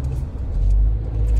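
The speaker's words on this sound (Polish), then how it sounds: "jadę tym autem." A new car being driven, its steady low engine and road rumble filling the cabin with no talk, growing slightly fuller partway through.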